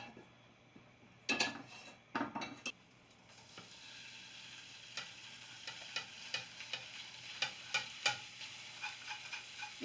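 Shrimp sizzling in melted butter in a pan, a steady soft frying hiss broken by a few loud stirring and utensil clatters early, then a run of light ticks and pops as it cooks.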